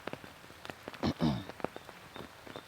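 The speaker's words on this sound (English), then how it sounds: "as you can hear in the background, if you cannot, then it's raining a little bit, drizzling" Light rain drizzles outdoors as scattered, faint patters and small taps, with a brief louder rustle near the middle.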